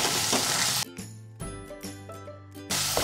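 A pan of paneer pepper fry is stirred, with a steady sizzle swelling and dropping as a spoon scrapes and clinks against the metal in short bursts.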